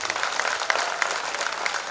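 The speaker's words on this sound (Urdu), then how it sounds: "تو مجھے ذرا سا تالیاں بجا کے اجازت دیں آپ" Audience at a 2019 poetry mushaira in Bijnor clapping, a moderate crowd applause of scattered, distinct claps that holds steady throughout.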